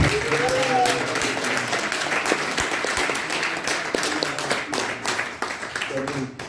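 Congregation at a Sunday church service clapping, a dense wash of applause carrying under a voice that keeps talking throughout.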